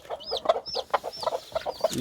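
A hen clucks in quick repeated bursts among newly hatched chicks, whose thin high peeps rise over the clucking, close and fairly loud.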